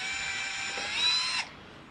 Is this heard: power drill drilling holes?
yes